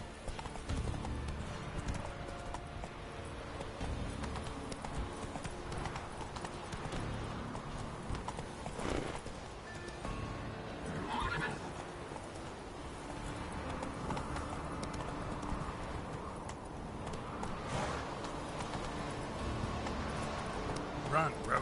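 Roach, the horse in The Witcher 3, gallops with a steady, rhythmic clip-clop of hooves that runs throughout, close and fairly loud, mixed with game ambience and a few short bursts of sound.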